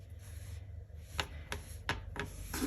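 Blade strokes through a fall-themed sticker sheet printed with sunflowers and pumpkins, four or five short, crisp cuts spaced irregularly over a low steady hum, close and fairly quiet with no talk.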